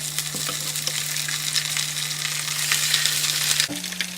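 Fish fillet laid into a hot frying pan for a low-carb keto fish curry, giving a steady, loud, close sizzle that fills the whole stretch with hiss and faint crackles, with no talking.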